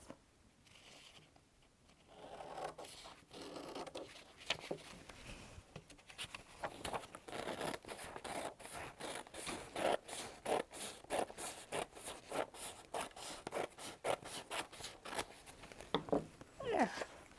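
Scissors cut paper for a collage in a run of soft, quiet snips and rustles that grow denser and more rhythmic toward the end. No one speaks.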